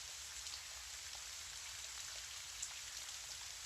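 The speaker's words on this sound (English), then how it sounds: "As the rain slides down the window outside" Steady, soft rain patters against a window, a constant fine hiss with scattered tiny drop ticks, faint and even throughout, with no voices.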